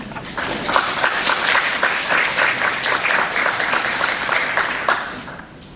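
An audience at an architecture and urban space forum claps steadily to welcome the opening speaker, a dense, even applause filling the room for several seconds before tapering off.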